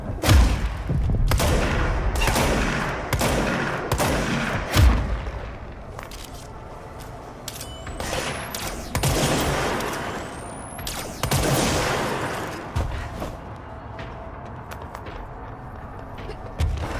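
Rapid gunfire in a Remedy shooter video game, loud bursts of close shots and booming impacts in quick succession, easing into sporadic fire and rumbling blasts with a few whooshing streaks.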